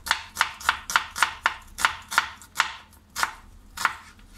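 An onion being sliced on a cutting board for salad, about a dozen crisp, evenly spaced knife chops close up, slowing slightly toward the end, with no talking.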